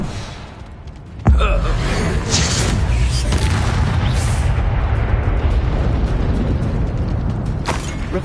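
Confringo fire blast from Hogwarts Legacy: a sudden loud boom that opens into a sustained roaring, crackling rush lasting several seconds. A second burst flares near the end.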